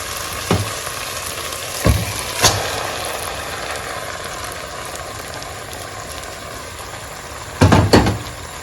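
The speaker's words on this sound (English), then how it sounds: "Let's go ahead and add our rice." Brown basmati rice goes into a pot of blended spinach for green jollof, giving a steady soft sizzle broken by a few sharp clanks and knocks of utensils against the pot.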